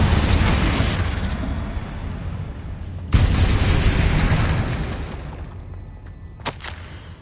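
A Confringo fire spell explodes in Hogwarts Legacy: a heavy, rumbling blast opens, a sharp loud boom strikes about three seconds in, then a smaller crack follows near the end, with no talk.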